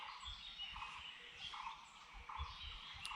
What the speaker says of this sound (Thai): บรรยากาศของเสียงนกร้องเต็มเลยนะครับ